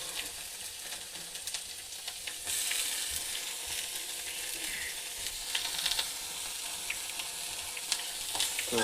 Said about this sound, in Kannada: ಟೊಮೆಟೊ ಹಾಕಿ ಇದನ್ನು ಹುರ್ಕೋದ್ರಿ. ಚೆನ್ನಾಗಿ ಮಸ್ತ್ ಪಟ್ಟಿ ಹುರ್ಕೋದ್ರಿ.